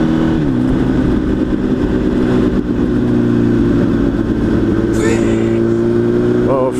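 A Kawasaki ZX-10R motorcycle drones steadily at close range as it merges onto a freeway, a dense engine hum holding a slightly rising pitch throughout, with heavy wind rush over it.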